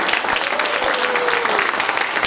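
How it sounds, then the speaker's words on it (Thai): A crowd at a Thai business gathering gives sustained, steady applause, thick and even throughout with no pause, the clapping loud and close with only faint speech beneath. "รับเสียงปรบมือหน่อย"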